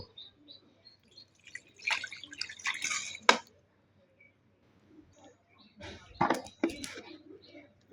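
Cut mango pieces, skins still on, are rinsed with water in two short bursts of splashing and dripping close by, with quiet gaps between them and a voice talking alongside.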